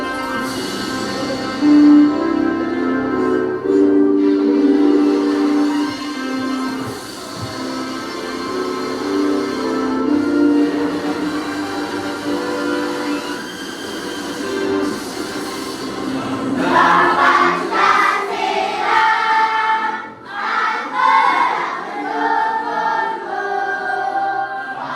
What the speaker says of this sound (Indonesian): Kita akan menyanyikan salah satu lagu wajib nasional yang berjudul Garuda Pancasila.